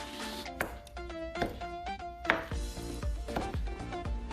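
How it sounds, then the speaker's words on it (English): A knife chops young coconut meat into long strips on a cutting board, a steady series of sharp, close thunks in an irregular rhythm, with no talking. "And just cut it in long strips."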